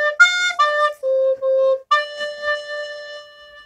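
Soprano recorder plays a short melody line of clear, breathy whistle-like notes, several separate tones with brief gaps between phrases, close and alone with no talking.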